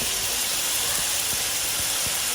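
Spices and tomatoes frying in a pan, a steady, loud broadband sizzle and hiss with a few faint pops, lasting the whole time without speech.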